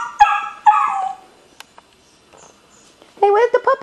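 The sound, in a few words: puppies and mother dog whimpering and barking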